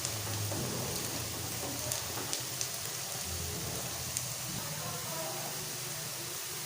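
Onions fry in a pan for a chicken liver masala, giving a steady, soft sizzle with scattered small crackles throughout, fairly quiet and uninterrupted.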